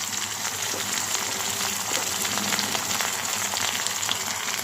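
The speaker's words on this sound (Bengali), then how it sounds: "পেঁয়াজটা হালকা আমি ভেজে নিয়েছি," Onions frying lightly in a pan with ginger paste, giving a steady, close hiss and crackle of oil that runs on evenly throughout, with no voices.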